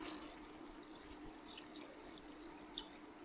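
Cold water is poured into tomato sauce in a pan while making seafood pasta, a faint steady trickling stream with soft splashes, quiet and continuous, with no talk.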